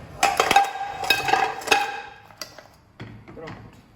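A large cooking pan is handled in a home kitchen, giving several metallic clanks and knocks that fade into softer taps, close up.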